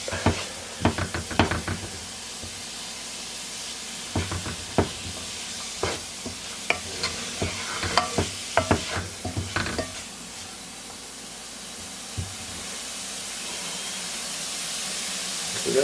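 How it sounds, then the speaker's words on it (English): Onions and garlic sauté in a skillet for a hamburger pie, giving a steady soft sizzle with repeated scraping stir strokes and occasional pan clinks, close by and moderately loud, with no talking. "once the onions are sauteed enough, then I'm going to add some garlic"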